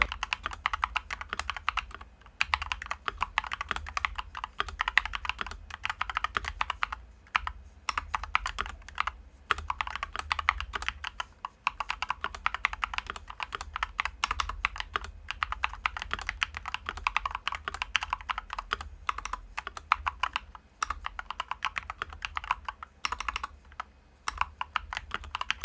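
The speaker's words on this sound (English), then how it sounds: "I like the typing sound of the stock Snow Blue Gray switches." Steady, brisk typing on a mechanical keyboard with stock Akko Snow Blue Gray switches, with crisp clacky keystrokes in an uneven rhythm, close up and alone.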